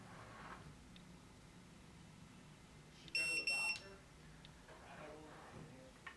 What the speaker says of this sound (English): Press and hold the set button for 2 seconds until it beeps and then let it go.